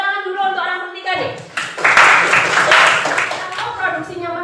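Students clap for a classmate in a classroom, a burst of fairly loud, dense clapping under and between the voices of people talking.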